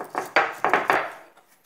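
Cinnamon is chopped finely on a stone grinding slab (ammi) with a handful of crisp, close knocks in an uneven rhythm, each ringing briefly before the strokes trail off into quiet.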